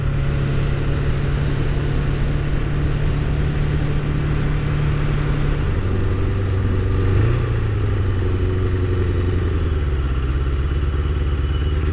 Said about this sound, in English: deceleration pops, and I love them